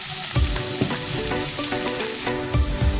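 Chicken frying in a pan makes a loud, dense, continuous sizzle close up, broken by several low thumps and stirring knocks, with no voices over it.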